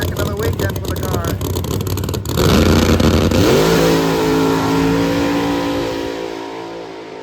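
A loud drag race car engine roars and revs hard at a no-prep drag racing event, then the pitch climbs as it accelerates away down the track, with an announcer's voice talking over it.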